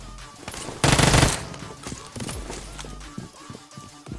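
A burst of rapid automatic gunfire in PUBG Mobile rattles loudly for about half a second, followed by scattered fainter shots and footstep-like thuds in the background.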